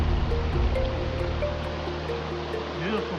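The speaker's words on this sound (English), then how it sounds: "Got a series of very unique cascades." Water spills down a series of cascades on North Matilija Creek in the Los Padres Mountains, a steady broadband rush close by that holds evenly throughout with no speech.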